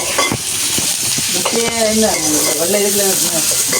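Curry chillies, small onions and asafoetida sauté in a frying pan, giving a loud, steady sizzle with stirring scrapes while voices talk over it.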